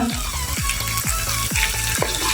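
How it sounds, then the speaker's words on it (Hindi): Cumin fries in a pan for kadhi pakora, a steady close sizzle running throughout over a rhythmic, pulsing background. "1 से 2 मिनट इसको भी फ्राई करेंगे।"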